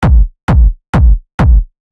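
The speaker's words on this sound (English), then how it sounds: "it's probably best to start with the kick, the kind of like hallmark of any techno track" Four punchy techno kick drum hits in a steady even rhythm, each a deep booming thump with a sharp click attack, alone and loud.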